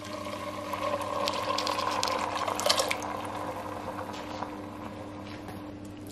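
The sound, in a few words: bone broth poured from a carton into a soup pot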